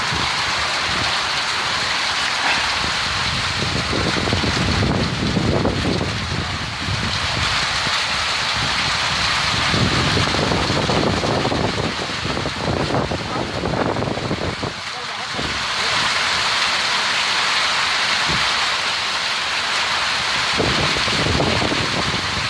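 Heavy rainstorm in Durg, India, with steady, loud, dense rain and gusting wind roaring across the microphone for the whole stretch, with voices faintly audible beneath.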